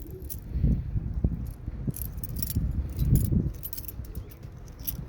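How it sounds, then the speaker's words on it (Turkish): Keys jangle and rattle for several seconds, metallic clinks near and continuous, with faint scraping as they are fumbled against a lock. "Kendi kapımın kilidini açamıyorum."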